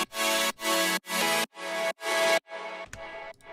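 A reversed sound effect in music production, a series of five swelling tones that each build and cut off abruptly, followed by quieter fragments.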